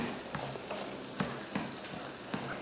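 Ground coconut paste stirred into bottle gourd and dal kootu cooking in a pan, a steady soft sizzle broken by several brief scraping stirs of a spoon, close and alone without voices.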